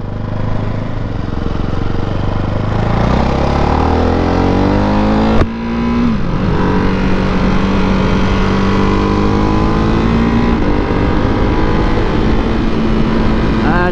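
Ducati 698 Hypermono single-cylinder motorcycle engine close by, loud and rising in pitch as it revs up through gears, then a brief shift and a sustained high drone.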